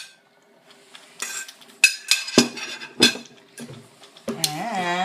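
Pieces of sweet and sour pork dropped back into a pan of sauce, giving a string of close metallic clinks and scrapes of utensil against pan, uneven in spacing, ending in a sizzling rattle.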